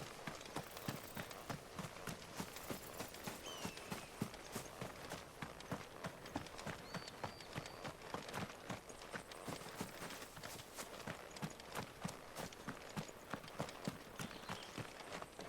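A chocobo being ridden in a video game, its footfalls pounding in a quick, even gallop rhythm throughout, fairly quiet and without talk.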